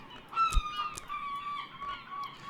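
Gulls calling at a gull colony in the Book of Hours video game, a few harsh honking cries, one sharp and loud, over a soft steady background tone.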